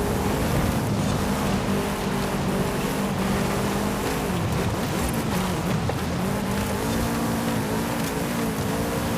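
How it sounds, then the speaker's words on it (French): Off-road buggy racing in Forza Horizon 5, its engine droning steadily with shifting pitch as it rises and falls through corners, loud and continuous with no talk over it. "Alors les buggy c'est une classe de voiture que j'aime pas du tout."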